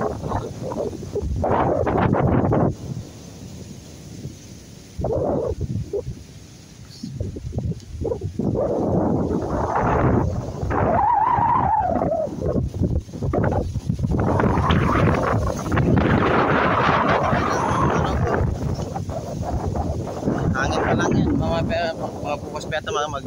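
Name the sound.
strong wind during typhoon in Cagayan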